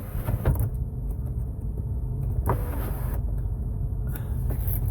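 An electric sunroof motor on a 2002 Nissan Maxima tilts the glass up, giving a loud, close whirring hum that starts and stops in a few short bursts, with no voices.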